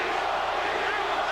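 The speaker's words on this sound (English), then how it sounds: "Crowd chanting, Tito," A large boxing arena crowd roars and chants during the Felix Trinidad versus Oscar De La Hoya fight, a dense, steady wash of voices filling the whole moment.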